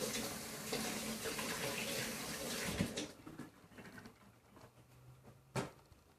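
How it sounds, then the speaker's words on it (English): Tap water runs steadily into a sink during hand washing in a home kitchen while low-carb keto meatball subs are prepared, a close broadband rush that stops near three seconds, followed by quieter clatter and a brief knock. "Wash my hands again."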